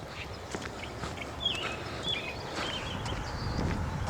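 Faint bird chirps and short calls scattered in the distance over steady outdoor wind and low rumble, no talking.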